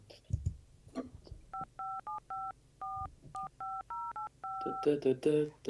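Telephone keypad dialing tones beep out a tune, a rhythmic run of short, clear dual-tone beeps, with people talking and laughing briefly before and after the melody.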